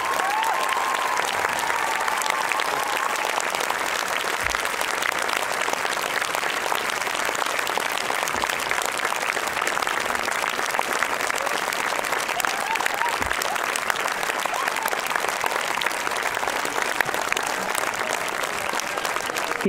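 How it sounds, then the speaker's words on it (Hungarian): A crowd at a dance team gala applauds the dancers and instructors in long, sustained, full-room clapping that stays loud and even throughout, with faint voices mixed in. "Egy hatalmas tapsot szeretnénk még egyszer kérni az összes táncosnak és oktatónak."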